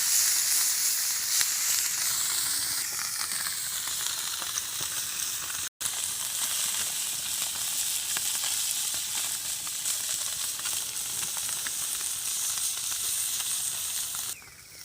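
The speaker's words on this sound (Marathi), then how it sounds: "तर तेल आपलं तापलेलं आहे आणि त्यावरती आपण आता आंबळी मासे सोडणार आहोत" Amli fish fry in plenty of hot oil on a tawa, giving a loud, continuous sizzling hiss with fine crackling that carries on unbroken to the end.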